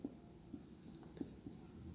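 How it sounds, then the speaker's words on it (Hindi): A pen scratches out a density formula in a few quiet, separate strokes over a faint room hush. "दोबारा मैं लिखता हूँ फार्मूला डेंसिटी का"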